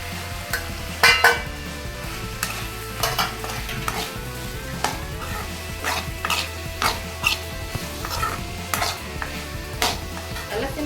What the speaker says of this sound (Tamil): சிம்லேயே வச்சு வதக்கிக்கோங்க அப்போ தான் வந்து சீக்கிரமாக காயெல்லாம் நல்லா வதவும்